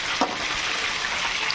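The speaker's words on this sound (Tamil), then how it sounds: "நல்லா மிக்ஸ் பண்ணிவிட்டு ஒரு 2 நிமிஷம் நல்லா ஃப்ரை ஆகும்" Masala of chicken masala, chilli powder and coriander powder fries in a pan. A steady, close sizzle continues throughout, with one brief stir or clink near the start and no talking.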